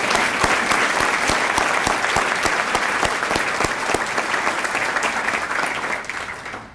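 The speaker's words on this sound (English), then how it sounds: "Let's give everyone one more round of applause." Dense, loud applause from an audience honouring teacher award nominees and finalists at an evening ceremony, steady clapping sustained throughout before tapering slightly at the end.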